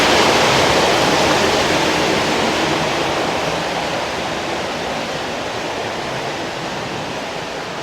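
Steady broadband roar of a waterfall-fed stream pouring down toward a lake near Hallstatt, Austria, a dense continuous rush that stays strong and close, easing very slightly over the eight seconds with no voices.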